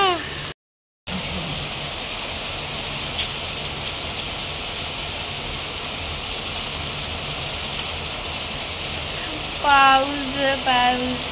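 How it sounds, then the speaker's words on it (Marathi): A heavy monsoon downpour, like a cloudburst, roars loud and unbroken, a dense steady hiss of rain with one brief dropout; a voice briefly rises over it near the end. "किती पाऊस आहे"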